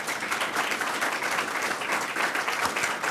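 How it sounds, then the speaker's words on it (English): Steady applause from an audience at a college speaker event, a continuous wash of clapping for several seconds with no voices over it. "Can we give them a round of applause?"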